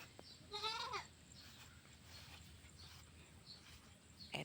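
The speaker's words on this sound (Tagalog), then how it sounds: "Ito po, may alaga kaming kambing." A pet goat on a rural farm bleats once, a short wavering cry close by, followed by quiet outdoor ambience and faint scattered sounds.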